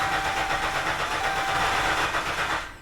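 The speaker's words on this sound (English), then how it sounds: "Then we want to just crank the engine." A Dodge Chrysler 3.6 V6 is cranked over without firing in clear flood mode, giving a steady, even starter whir with rhythmic cranking pulses for nearly three seconds before it cuts off.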